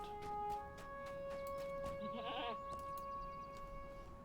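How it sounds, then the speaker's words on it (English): In a video game, a goat lets out one short wavering bleat partway through, set over steady tonal game music and ambience, with no speech. "And a delicious goat standing right by it."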